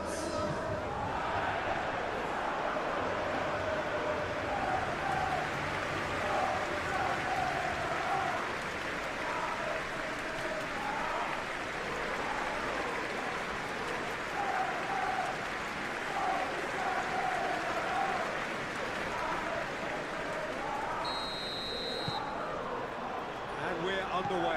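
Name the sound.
stadium crowd cheering in PES 21 video game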